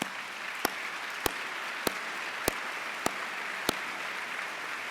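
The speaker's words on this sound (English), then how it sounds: "just please give each other a round of applause and look around and take it in." Graduation audience at a pharmacy school commencement applauds, a constant distant hiss of many hands clapping in a large hall, broken by six evenly spaced sharp ticks.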